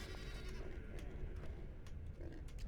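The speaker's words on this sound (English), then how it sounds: "I see that's a goat." A goat in Dragon Age: Origins gives a few short, faint bleats over a steady low ambient hum, spaced irregularly across the moment.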